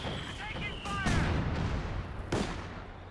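Mortar half-track firing in Company of Heroes 2, a World War II real-time strategy game, with heavy booming blasts near 1 s and 2.3 s over constant battle rumble and voiced commentary.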